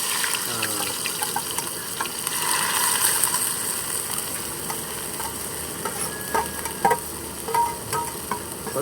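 Onions and green chillies frying with chana dal in a pan, a steady close sizzle and hiss with occasional stirring scrapes and clinks, continuous and moderately loud without talk.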